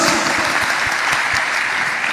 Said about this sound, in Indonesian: Tepuk tangan bagi Kristus